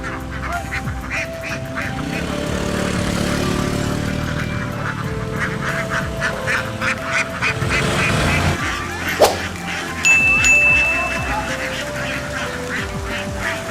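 Ducks on a duck farm honk and quack in a dense, continuous flock chorus, with many overlapping calls near and far.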